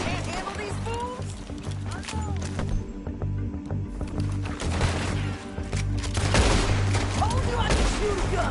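Video game gunfire crackles in scattered bursts and volleys amid galloping hooves and general action noise, with voices talking throughout.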